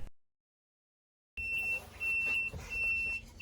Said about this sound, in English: it made this beeping noise when it came down, so it was really loud